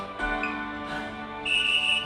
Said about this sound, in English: I was wishing for that whistle then